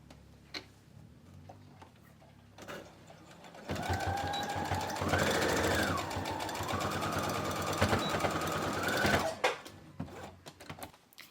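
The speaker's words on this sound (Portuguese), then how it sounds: "Então, primeiro eu vou costurar minha lapela." A sewing machine stitching a lapel runs steadily for several seconds, loud and close with a rapid ticking hum that rises slightly in pitch, framed by quieter handling and fabric sounds before and after.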